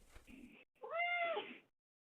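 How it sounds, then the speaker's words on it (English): A single drawn-out cat meow, clear and fairly close, follows a faint stretch of muffled voice and ends in silence. "stop meowing"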